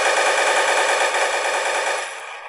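Rapid automatic gunfire in the shooter game First Blood, loud and continuous with dense bursts that trail off slightly at the end, no voices over it.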